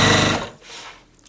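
A sewing machine stitches quilt block pieces in a short, fast mechanical run of clattering needle strokes, close up, that stops abruptly and leaves faint room noise.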